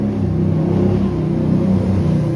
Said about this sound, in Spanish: Parezco que estoy en un rancho porque pasan motos.